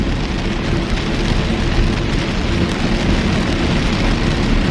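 Heavy torrential rain pours down in a steady, loud, dense roar, an unbroken wash of close downpour with no voices over it.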